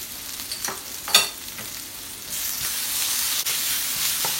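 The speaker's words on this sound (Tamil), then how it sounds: "இப்போ எல்லாம் நல்லா வதங்கிட்டு அதுக்குள்ள பிளாக் பீன் சாஸை போடுறேன்." Ingredients sauté in a pan just after black bean sauce goes in, with a few clinks and scrapes of stirring over a sizzle that swells louder and steadier partway through, close and without talk.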